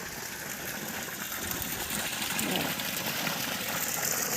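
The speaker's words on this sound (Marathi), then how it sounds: "मोटर चालू केलेलं दाखवते" An electric motor pumps borewell water, producing a continuous loud broadband hum and rushing flow that holds steady and swells slightly throughout.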